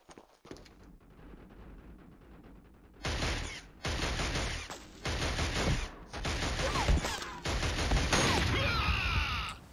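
Bursts of automatic gunfire in the Killzone HD shooter, several loud sustained volleys broken by short pauses, after a quieter opening.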